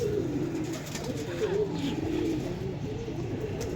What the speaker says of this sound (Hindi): हमारे कबूतर नीचे उतर गए हैं